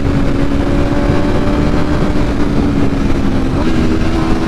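A 2022 Aprilia RSV4 Factory 1100 with a BT Moto ECU flash tune pulls hard at full throttle in first gear, giving a loud, steady engine roar close by with no talk over it.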